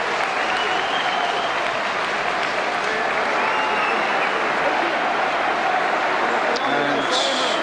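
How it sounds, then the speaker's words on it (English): A football stadium crowd applauding a substituted player at a 1993/94 Crystal Palace v Charlton Athletic match, a broad, sustained wash of applause filling the ground, with a commentator talking over it. "Paul Stewart getting a great round of applause"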